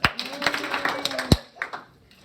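Two sharp hand claps ring out in a room among scattered taps and light background chatter, each a crisp, close burst.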